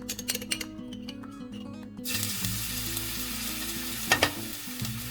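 Minced garlic hits hot oil in a pan after a stretch of stirring, bursting into a loud, steady sizzle that keeps going, with a brief louder crackle partway through, and no one talks.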